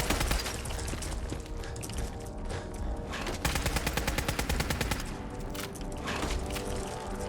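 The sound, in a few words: gunfire from a gun in the video game Fallout 4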